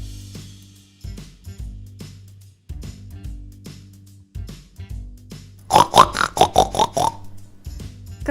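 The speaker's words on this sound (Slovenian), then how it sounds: "Prašič." A pig lets out a quick series of short grunting oinks in close succession over soft rhythmic background music.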